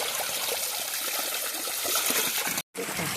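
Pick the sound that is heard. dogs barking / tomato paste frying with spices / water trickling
water trickling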